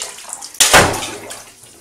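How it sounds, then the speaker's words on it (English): A toy Octonauts Octopod drops into bathtub water with one sudden, loud, close splash, followed by a fading trickle of water settling. "Oh my gosh. That was a big splash."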